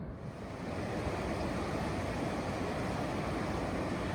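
Rushing river rapids along a hiking trail in the Outaouais region of Quebec, a steady broadband roar of churning water that stays loud and continuous throughout, with some wind buffeting the microphone.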